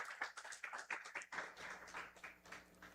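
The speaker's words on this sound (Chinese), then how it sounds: "我们再一次掌声欢迎他" A Sunday congregation at a Mandarin-language church service claps to welcome a guest: a faint, brief patter of hand claps, soft and somewhat distant.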